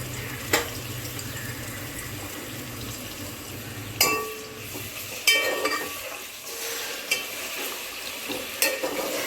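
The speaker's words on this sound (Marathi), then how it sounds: "तेल गरम झालेलं आहे. तर आपण त्यामध्ये कांदा टाकून घेऊया." Onion frying in hot oil for chicken biryani: a steady low sizzle runs throughout, broken by a few sharp clinks and stirring knocks, close by and moderately loud.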